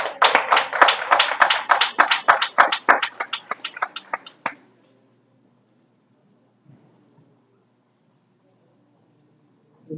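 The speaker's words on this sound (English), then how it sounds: "Give her another round of applause" Close, sharp hand clapping from a small audience at a live stream, several seconds of rapid claps that thin out and stop, followed by near silence with faint shuffling.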